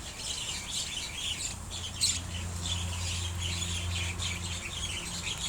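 Harsh squawking calls from a flock of egrets, several overlapping cries over steady outdoor ambience with a low hum, one louder call standing out.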